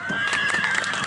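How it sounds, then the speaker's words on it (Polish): A horse gives a loud, close whinny at a Polish mare show, a single sustained neigh with a wavering pitch lasting about a second. "przed Państwem w czerwonej wersce klacz Łubnica"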